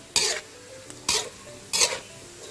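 Small fish deep-frying in oil as they start to turn golden, with foamy oil bubbling in the pan: three sharp bursts of sizzling crackle, each lasting a moment, over a quiet low simmer, close by and with no talk.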